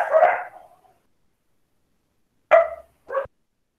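Pet dogs bark indoors at home: one longer burst, a pause of silence, then two short sharp barks, close and loud with no talk.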